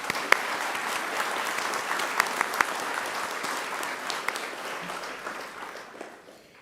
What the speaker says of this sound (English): could you join me in giving them a big round of applause?